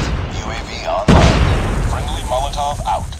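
A Molotov cocktail bursts in the mobile shooter COD Mobile with a sudden loud boom followed by a rumbling tail, while game voices chatter over it.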